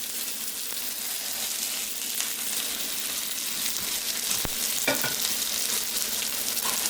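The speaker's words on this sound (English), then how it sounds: "I think we can get the steak on there now" Steak seasoned with salt and pepper searing in a hot pan, a loud, steady close sizzle and crackle throughout with a few brief clicks and scrapes of a utensil.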